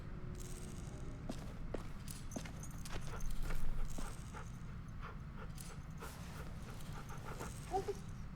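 A dog pants in the video game The Walking Dead: The Final Season, with rhythmic, fairly faint breaths and scattered clicks and taps, and no talking.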